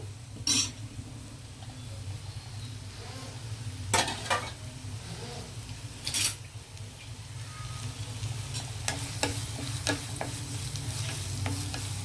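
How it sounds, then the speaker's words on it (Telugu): Two medium onions fry in hot oil for green peas pulao, a steady low sizzle with a constant hum underneath and several sharp clanks and scrapes of a spatula against the pan, no talking. "ఆయిల్ హీట్ అయ్యాక నేను దీంట్లోకి ఆనియన్ వేసేస్తాను."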